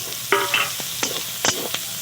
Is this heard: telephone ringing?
no